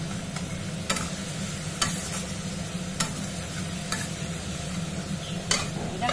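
Spiced masala paste fries in oil in a pan for a fish curry, hissing in a steady sizzle while a spoon scrapes and taps the pan about once a second, close and with no talking.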